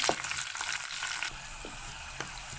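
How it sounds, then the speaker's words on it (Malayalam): Slit green chilies, ginger and garlic sizzle in a pan for Kerala fish head curry, a bright steady hiss with a few soft scrapes of stirring, close and alone. "പച്ചമുളക് കീറി ഇട്ട് കൊടുത്തതിന് ശേഷം ഒന്ന് ഇളക്കി കൊടുക്കണം"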